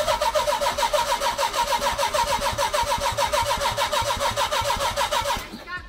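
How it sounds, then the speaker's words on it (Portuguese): The engine of a long-abandoned car runs and revs in a steady, pulsing, throbbing rhythm, loud and close, before cutting out abruptly at the end. "Vou ter que acelerar aqui, Luquinha."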